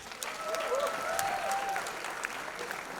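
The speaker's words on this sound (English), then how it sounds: "a round of applause for yourselves, please" Applause from a convocation audience of students at a film school ceremony, a moderate steady patter of clapping lasting a few seconds, with faint overlapping voices and a brief tonal sound drifting through the middle.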